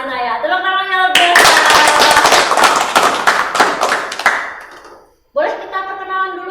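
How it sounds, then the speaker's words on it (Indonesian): School guests from SMK Al-Inayah are met with a loud, dense burst of audience clapping lasting several seconds, framed by a voice talking before and after. "Tepuk tangannya lebih."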